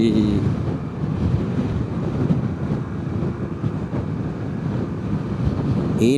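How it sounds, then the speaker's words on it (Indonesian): Strong wind buffets the microphone on the coast at Batukaras, a steady loud roar with possible surf beneath it that runs through the whole stretch. "Waduh, anginnya kencang banget."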